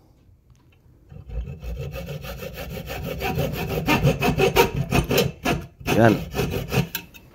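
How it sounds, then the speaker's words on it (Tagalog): A broken fishing rod is cut by hand with a saw in a steady run of rasping back-and-forth strokes that grow louder and quicken, close up, with a brief spoken word. "Pinutol ko na yung kabila din."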